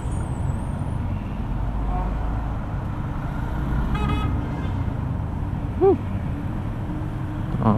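Dense road traffic on Commonwealth Avenue on a Monday morning, a steady engine rumble with a short horn toot near the six-second mark and another at the end, plus faint talk in the background.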